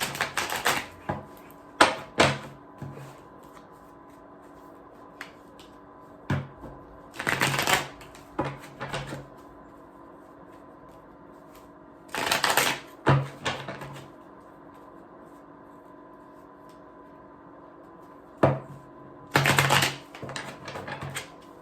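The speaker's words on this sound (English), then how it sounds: "So with that being said, I'm going to pull 3 cards." Tarot cards shuffled and pulled from a deck in short, crisp bursts of riffling and snapping, separated by quiet pauses, close to the microphone with no talking.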